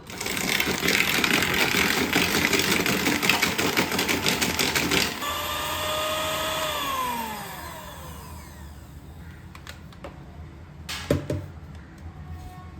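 A mixer beats eggs and sugar for a crunchy chocolate cake, its motor whirring loudly and steadily before winding down in pitch, followed by a couple of faint clinks.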